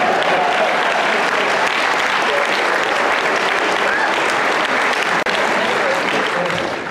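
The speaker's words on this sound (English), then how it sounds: "That's worth an applause, man." A large festival audience breaks into loud, sustained applause, a thick continuous roar of clapping with a few faint voices mixed in, holding steady throughout and easing only slightly at the end.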